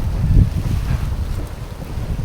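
Strong monsoon wind on a seawall by rough sea buffets the microphone in a loud, low rumbling roar with gusty swells, no voices.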